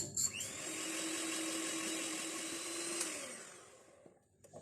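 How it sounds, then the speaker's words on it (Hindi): An electric hand mixer whirs steadily while beating butter and sugar into a fluffy batter for a nut cake with peanuts, almonds and pistachios, a continuous close motor drone that winds down near the end. "इसको अब हम मजीद बीट कर लेते हैं। बाकी बची हुई चीनी भी डालेंगे और मजीद बीट कर लेंगे।"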